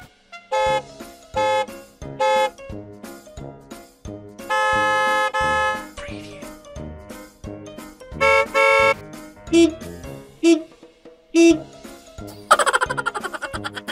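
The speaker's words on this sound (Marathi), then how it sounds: "सारखं सारखं हॉर्न द्यायचं" Car horns honk again and again in short bursts in traffic, some long blasts, one after another close by, with a rapid trilling horn near the end.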